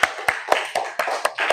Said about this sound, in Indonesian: Beri tepuk tangan untuk Mas Ardo Soju.